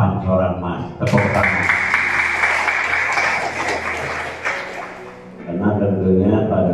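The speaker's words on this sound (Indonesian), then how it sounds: "Tepuk tangan." Attendees at an evening community forum break into loud applause lasting several seconds, with someone speaking over a microphone just before and after the clapping.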